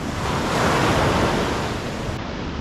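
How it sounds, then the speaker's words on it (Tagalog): Strong sea waves crash steadily onto a beach at night, a dense continuous roar of surf with some wind noise, loud and close, and no voices. "lakas ng alon"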